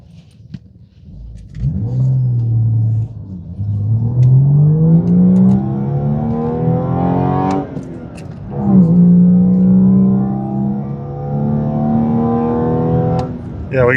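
A BMW M235i engine revs and accelerates through a couple of rising gear pulls with no turbo boost from a popped pipe, rough and close, with no turbo whistle evident.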